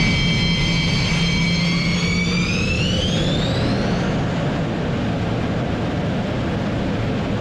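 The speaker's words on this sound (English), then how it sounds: "they're gonna do it with an engine that sounds a little bit like this" A hypersonic aircraft engine roars loudly and steadily, its high whine sweeping upward in pitch over a deep rumbling drone before settling into a sustained, powerful blast, with no voices.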